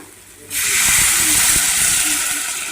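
After a brief quiet moment, a loud burst of steamy hissing erupts as water hits a hot pan of vegetable curry with garam masala and keeps sizzling steadily, with faint voices beneath.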